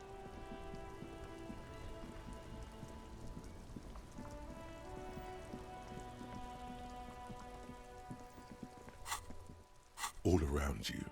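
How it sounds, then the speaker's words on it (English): Steady rain falls across the great city of Revachol in the video game Disco Elysium, a continuous hiss under sustained musical chords, with a few louder bursts of noise near the end. "All around you, rain falls on the great city of Revachol. Rain drips from the eaves and floods the gutters"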